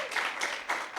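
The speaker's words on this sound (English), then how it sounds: "So give him another round of applause." Audience at a school impromptu speaking competition finals gives a student presenter a round of applause, a dense wash of clapping filling the room.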